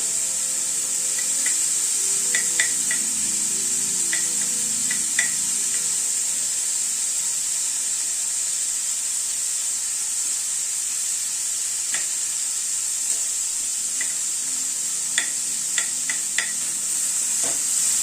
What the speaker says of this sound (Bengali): এবার রসুনটাকে আলু পটলের সাথে একটুখানি ভেজে নিচ্ছি।